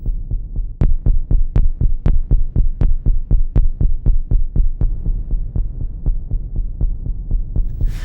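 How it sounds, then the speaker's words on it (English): Punchy kick drum hits in a steady pulse, each with a bright, airy shimmer reverb tail that lingers and shimmers after the thump, with no voices. "The shimmer reverb just pops in to give that little trail on the kick"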